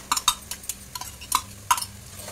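A paste of coconut, onion, garlic, tomato, coriander, ginger-garlic and Malvani masala is sautéed in a pan, stirred in quick, close metallic scrapes and clinks, bunched in short bursts, with no voices.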